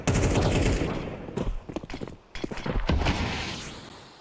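SMG fire in a Counter-Strike match, several quick rattling bursts separated by short gaps, loud and close, then fading out.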